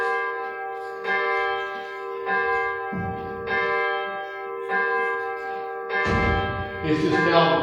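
Church bells of First Universalist church in New Madison ring out in a slow series of resonant chimes, each tone lingering and overlapping the next, with a low rumble and faint voices underneath.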